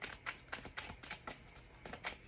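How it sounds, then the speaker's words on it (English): Tarot cards shuffled by hand in a quiet room, a run of soft, papery riffling bursts coming in uneven clusters, close and fairly faint, with no talking. "Let me shuffle up because it's giving me a hard time."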